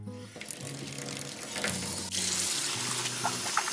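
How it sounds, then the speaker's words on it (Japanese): Tap water runs into a sink to wash cat bowls, one plastic and one porcelain, as a steady hiss that swells louder partway through, with faint tonal sounds underneath. "水出すよ。"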